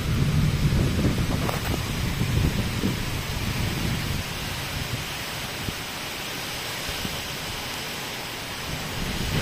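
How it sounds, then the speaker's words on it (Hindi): Heavy rain pouring steadily outdoors in rural Odisha with rolling thunder rumbling through the first seconds, a dense continuous hiss that stays loud throughout with no voices. "वर्षा है सब चल घर को"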